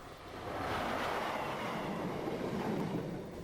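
A train rolls past on track fitted with treadles for a warning system at a re-sleepering work site near Northampton, giving a steady rushing roar that swells in over the first half-second and holds fairly even, heard at moderate distance without talk.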